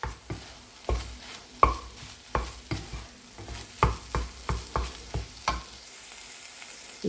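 Boiled mutton keema being stirred into Maggi wheat noodles frying in a pan, giving a steady run of loud spoon scrapes and clacks roughly every half second over a soft sizzle, with no talking.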